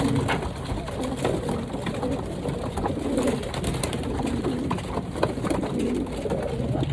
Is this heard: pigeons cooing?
yes